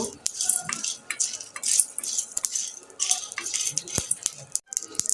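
Cinnamon, cardamom, black pepper and cumin seeds frying and being stirred in a pan for a chicken-liver dish, with a steady close rattle and clink of a metal spoon scraping the pan under a faint sizzle.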